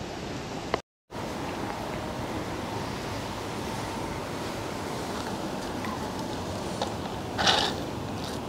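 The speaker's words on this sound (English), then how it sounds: "it's a tad on the windy side" Steady outdoor rush of wind buffeting a microphone at a fishing spot, with a brief dropout early and a gust-like swell near the end.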